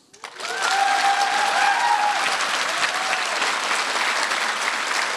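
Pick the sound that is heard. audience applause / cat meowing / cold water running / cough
audience applause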